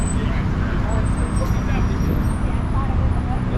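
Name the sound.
cars pulling up at a late night car meet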